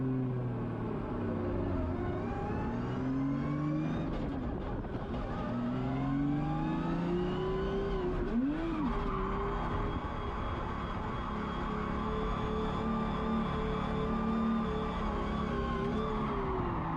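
An autonomous car drifts hard through figure-8 loops, left and right, on a test surface marked with tire tracks; a continuous engine roar rises and falls with shifting revs and a steady scrubbing tire noise, loud and close throughout.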